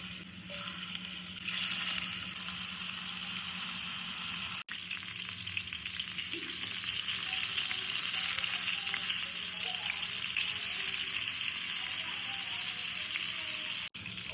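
Chicken pieces fry steadily in hot oil in a pan for a biryani. The bright, dense crackle holds close and loud the whole time, broken by two brief drops, with no voices.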